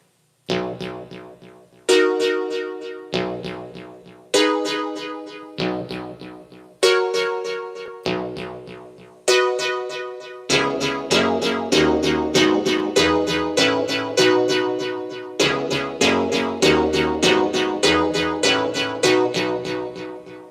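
Plucked synth notes ring out one by one, then a dense run of repeating tones where each note trails into echoing copies, steady and fairly loud.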